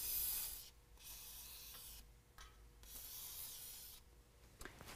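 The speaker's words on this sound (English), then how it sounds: "we're also going to go through and spray all of our hangers with some WD-40" Short hissing bursts from a WD-40 aerosol can sprayed onto exhaust hangers of a 2017 Ford F-150 5.0 V8, several separate sprays with quiet gaps between them, close by.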